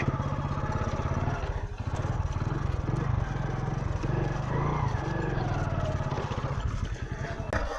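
A Hero HF Deluxe 100cc motorcycle starts up and runs, its small single-cylinder engine putting out a steady, close putter with a throbbing low rhythm throughout.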